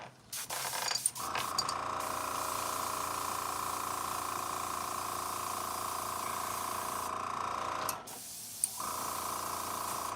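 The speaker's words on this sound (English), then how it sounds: "Not spraying right. I am getting more clogging going on here." A continuous hissing spray from an aerosol spray paint can priming miniatures runs steadily for several seconds, starting and stopping abruptly, with a short sputtering burst near the end from the clogging nozzle.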